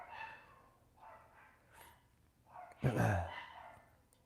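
Dogs outdoors at night bark in a short loud burst near the end, after quieter muffled sounds that may include distant barking or voices.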